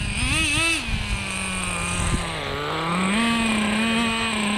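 A nitro RC drag car engine screams loudly and steadily, its high-pitched whine rising and dipping as the throttle changes, close and unbroken for nearly five seconds with no talk.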